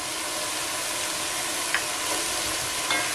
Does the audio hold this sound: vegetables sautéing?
yes